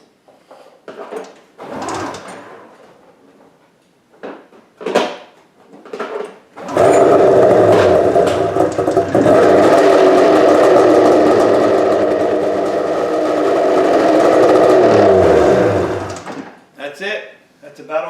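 After a few short knocks and bursts of talk, an old Arctic Cat ZRT 600 snowmobile engine catches and runs loudly with a steady rattling drone for about ten seconds, then stops.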